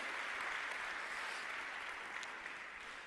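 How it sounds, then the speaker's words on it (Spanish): A church congregation gives a strong round of applause after a sermon passage, an even, sustained rush of many clapping hands, soft and distant, with no voices over it. "Le damos un fuerte aplauso a esta palabra"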